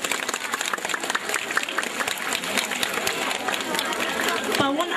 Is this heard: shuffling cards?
no